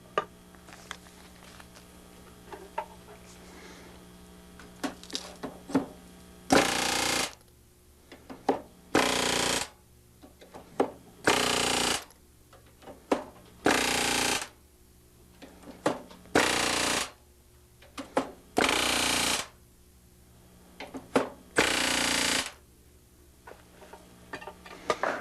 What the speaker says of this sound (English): we're going to be using a simple, just your regular back rivet set, and we're just going to work our way right on across.